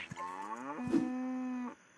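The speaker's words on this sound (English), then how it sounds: "Yeah, cow." Cow in the zombie survival game Unturned gives one long, loud moo that starts higher and drops into a sustained low drone before cutting off, heard alone.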